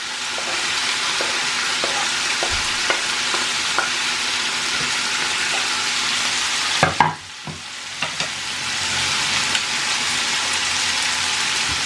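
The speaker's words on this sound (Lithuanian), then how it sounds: "Ir apkepam, kol svogūnai truputį parudo kartu su mėsa." Pork neck and onions fry together in a pan for a stew, a loud continuous sizzle broken by the clack of a utensil stirring, with a brief pause before the hiss resumes.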